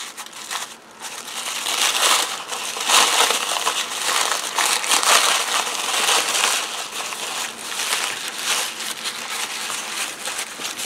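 Dollar store tissue paper, twisted and dyed, is unrolled, giving a steady, close crinkling and crumpling rustle that runs the whole time with small crackling bursts.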